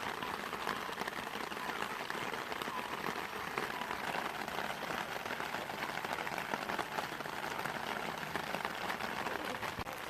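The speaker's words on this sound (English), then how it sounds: "Just started to rain." Steady rain patters onto a river bank during an evening barbel fishing session on the middle Severn, a dense, even hiss of drops filling the scene throughout.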